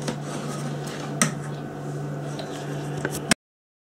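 A spoon scrapes and knocks inside a pot while pea soup gets stirred, soft clinks with a couple of sharper metallic taps over a steady low hum.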